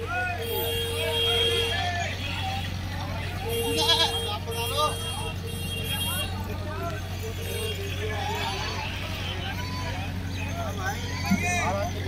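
Goats bleating at a busy livestock market in Moradabad, several wavering calls near and far over crowd babble and passing traffic.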